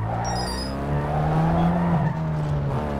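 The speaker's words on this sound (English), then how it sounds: "Oh, yo, this car sounds dead." A car in the racing game Need for Speed Underground 2, with a steady droning engine note and a sustained tire squeal or skid, loud and continuous throughout, with no talk.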